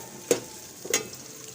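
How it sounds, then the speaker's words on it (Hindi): Spices and onion fry in a pan for bhindi masala, a soft steady sizzle punctuated by two quick, sharp stirring scrapes close by. "इसको भी प्याज के साथ फ्राई करेंगे थोड़ा सा"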